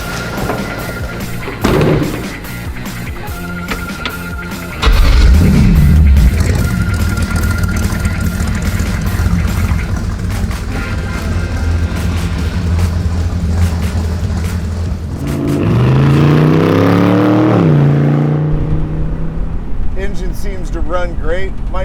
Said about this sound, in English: this old small block Chevy feels wonderful